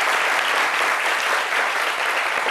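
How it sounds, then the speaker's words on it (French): Audience applause welcoming a guest on a French midday talk programme: dense, steady clapping from a crowd, loud and close, filling the whole stretch without a break. "Et Alicia, que nous sommes très heureux de retrouver avec vos applaudissements, bien sûr, mesdames et messieurs"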